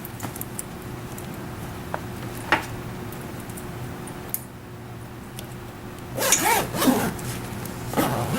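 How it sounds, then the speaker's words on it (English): A zipper on a backrest pad is pulled closed in several quick zips, preceded by a few light ticks and handling clicks, close and otherwise quiet. "then we can close the backrest pad zipper."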